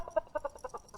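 Rooster clucking imitated by squeezing and stroking plastic bottles, a quick series of five or six short squawky pulses, faint and alone.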